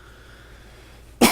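A single sharp cough from a person recovering from a sinus illness, loud and close, bursting out at the very end after a stretch of quiet room tone.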